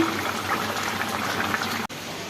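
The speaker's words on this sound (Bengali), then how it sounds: "আমাদের মাছের ঝোল রেডি টকবক করে ফুটছে" Fish curry boiling in a pot gives a steady, close bubbling and simmering that runs almost without a break, then cuts out abruptly for a moment near the end.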